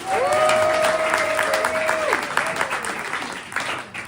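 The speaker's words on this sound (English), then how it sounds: "Let's give them all a round of applause." An audience at an outdoor press conference at Coney Island applauds briefly, a moderate wash of clapping under a speaker's voice that fades out within a few seconds.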